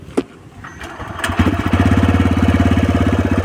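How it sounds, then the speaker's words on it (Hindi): A TVS Raider motorcycle starts with a key and settles into a loud, close idle, its exhaust giving a steady, rapid rhythmic putter after a few clicks and a brief rev. "ये अपना चाबी इधर करते हैं और यहाँ पे अपना बाइक स्टार्ट हो गया। और देखिए आपको एग्जॉस्ट सुनाते हैं।"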